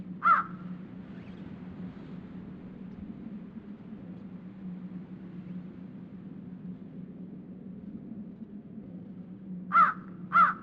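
Crow cawing in the video game Dracula: Resurrection, one sharp caw at the start, then a low ambient hum, then two more caws close together near the end.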